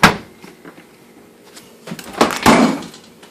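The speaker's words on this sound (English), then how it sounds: "Can I open this door? No." Someone tugs at the double doors of a GE Slate refrigerator that won't open, giving scattered knocks and rattles that build to a louder clunk and a short burst of bumping near the end.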